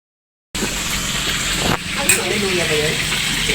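After a brief silence, fish crackles and sizzles in hot oil, with a sharp clank partway through and faint background noise.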